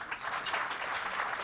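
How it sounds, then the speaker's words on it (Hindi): Audience applause at an award ceremony for selected primary school teachers, a steady dense wash of clapping from a crowd, moderately distant and continuous throughout. "जोरदार तालियां।"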